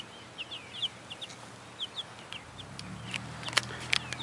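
Two-week-old backyard chicks in an indoor brooder tub give short, soft high-pitched peeps and clucks, scattered and irregular, with one louder burst of chirps near the end over a quiet background.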